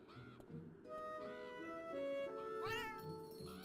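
A cat in the video game Beyond Eyes meows, a clear rising and falling cry near the end of a quiet stretch, with softer mewing sounds before it over low background ambience.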